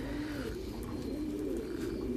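Pigeons on a pigeon farm coo in a low, continuous chorus, with many birds murmuring at once and no talking over them.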